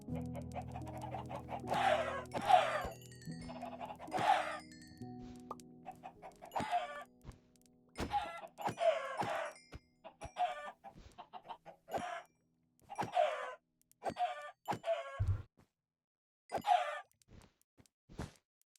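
Minecraft chickens cluck in a steady series of short, clear clucks and squawks, repeated every second or so over a quiet background, with a low hum early on and soft clicks between them.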